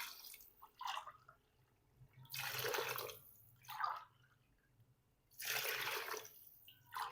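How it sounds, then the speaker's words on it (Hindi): Water is poured into a cooking pot for pulao in several separate bursts, each a few seconds of splashing liquid, with quiet gaps between the pours. "अब इसमें मैं 4 गिलास पानी शामिल कर दूँगा।"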